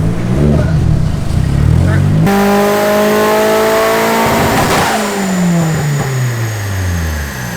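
A car engine on a dyno with the T-tops off, running at peak boost, roars loudly, cuts in sharply and climbs in pitch, drops briefly, then climbs again up close, with voices faint beneath.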